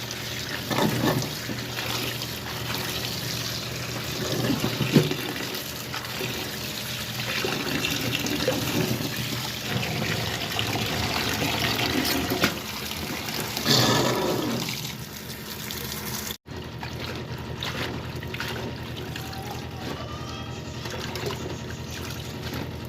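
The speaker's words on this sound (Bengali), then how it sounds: "ভালোভাবে শাকগুলো ধুয়ে তুলে দিচ্ছি" Water sloshes and trickles steadily as Malabar spinach (poi saag) leaves are rinsed by hand in a basin, close up and continuous, with a brief tap-like rush near the end.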